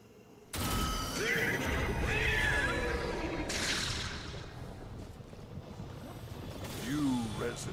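A horse in the video game Destiny 2 lets out a sharp whinny after a sudden burst of game noise, followed by mechanical clatter and a second rising neigh near the end.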